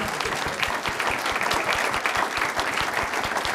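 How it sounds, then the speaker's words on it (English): Dense applause from the audience at a board of education meeting, a steady, fast patter of many hands clapping at even loudness throughout, with no cheering voices standing out. "Big cheer for Rock."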